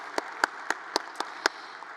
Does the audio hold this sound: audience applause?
yes